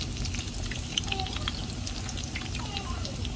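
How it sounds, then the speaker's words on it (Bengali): Tuna fish kebabs frying in a pan in a little oil over low heat, a steady soft sizzle and crackle running throughout, close and even. "আর এই যে বাকিগুলো ভাজতেছি, একদম এখন উঠায় ফেলাবো ভাজে।"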